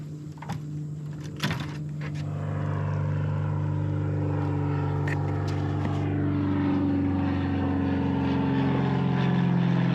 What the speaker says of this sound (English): Planes taking off right above our head.